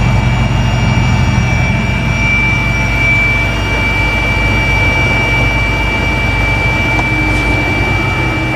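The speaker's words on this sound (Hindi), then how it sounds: "हमारा हेलीकॉप्टर उतरने वाला है" Continuous loud, steady roar of a helicopter engine and rotor arriving to land at a rally ground at an inter college in Bhagalpur, a dense unbroken drone throughout with no voices.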